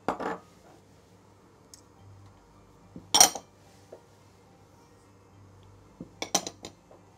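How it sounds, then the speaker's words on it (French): A batter of egg white, flour, sugar and grated coconut is mixed in a bowl. A utensil knocks and clinks sharply against the bowl in a few sparse bursts, separated by quiet gaps. "Il suffit de mélanger tous les ingrédients"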